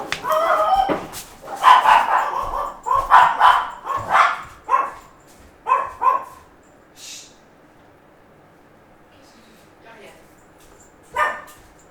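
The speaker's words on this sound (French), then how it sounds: "Ce sont les voisins et mes chiens." Several dogs bark in quick loud bursts nearby, a cluster of overlapping yaps and woofs that thins into scattered single barks, with someone talking intermittently.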